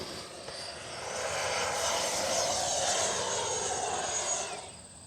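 An FMS Avanti S 90mm electric ducted-fan RC jet on a 6S 5000 pack at about 60% throttle passes overhead, its steady whooshing whine swelling to a loud peak mid-pass and then fading, with no talking.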